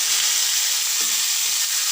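Chopped mango hits hot oil with mustard seeds and dried red chilli for a tangy mango chutney, producing a loud, steady, close sizzle with faint stirring beneath it.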